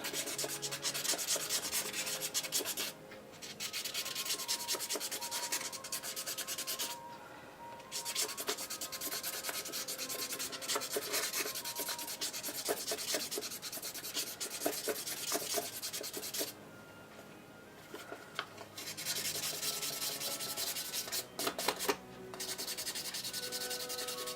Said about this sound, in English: Sand that a little bit with just hand sanding and put some more finish on it.